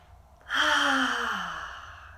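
A single long, audible exhale like a sigh during a pelvic floor breathing exercise, starting sharply and tapering off over about two seconds, close and alone.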